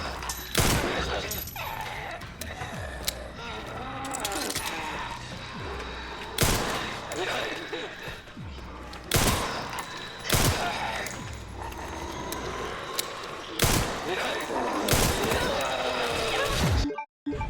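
Gunshots in the Resident Evil 9 Requiem video game crack out as several loud, separate blasts spread over the stretch, among clanks, impacts and busy game noise, with a voice talking now and then.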